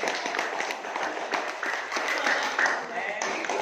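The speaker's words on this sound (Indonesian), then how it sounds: "tepuk tangan semuanya" Group clapping in a classroom during an Islamic religious education lesson, a dense, steady patter of many hands close by, with children's voices and chatter mixed in throughout.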